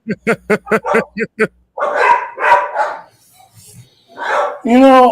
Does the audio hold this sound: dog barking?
yes